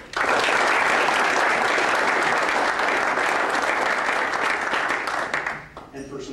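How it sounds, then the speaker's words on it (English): An audience at a luncheon breaks into loud, dense applause that holds steady for several seconds, then tapers off near the end as a voice begins. "If you could please give a round of applause."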